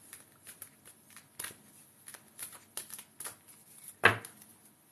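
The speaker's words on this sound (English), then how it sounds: "shuffle the cards" Tarot cards being shuffled in quick riffling bursts, soft and close, with one louder snap of cards near the end; no talking.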